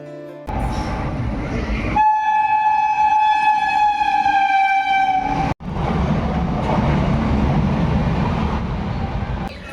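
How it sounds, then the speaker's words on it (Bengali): A freight train passes loudly nearby and blasts a long horn for several seconds. A steady heavy rumble of wagons rolls on after the horn stops. "একটা একটা মালগাড়ি পেরিয়ে যাচ্ছে, ট্রেন পেরিয়ে যাচ্ছে"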